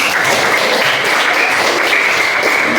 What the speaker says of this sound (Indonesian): Beri tepuk tangan untuknya.